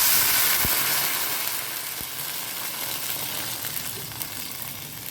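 Thick milk, about half a litre, poured into a hot kadai for semiya payasam, giving a steady broad sizzle and hiss that is loudest at the start and then settles to an even simmer, with a couple of faint clinks.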